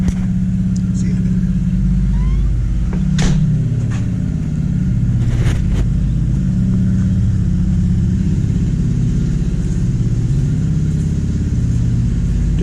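A classic Ford F500 farm truck idles with a worn-out muffler, giving a loud, continuous low rumbling engine drone close by with a few faint clicks, and no talking.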